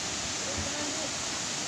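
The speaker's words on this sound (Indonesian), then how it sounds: "Kita mampir dulu di sini air terjun" A waterfall roars in a steady, loud, unbroken rush of falling water, with no other sounds standing out.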